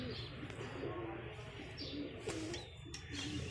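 A Teddy pigeon coos softly in the morning, giving short repeated low calls over a busy background with occasional chirps. The sound is faint, and there is no clear talk.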